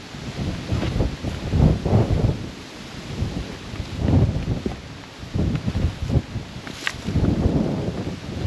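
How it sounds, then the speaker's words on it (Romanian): Strong mountain gusts of wind in the Cerna Mountains, Romania, buffet the microphone in rumbling surges that rise and fall, with a faint rustle in between. "A început și vântul ăsta."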